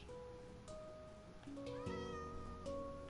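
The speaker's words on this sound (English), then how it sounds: "Speaking of Cheshire, hey there, kitty kitty." A Cheshire cat in a video game meows several times in short, tonal calls that rise and bend, fairly quiet over a soft game background with no talking.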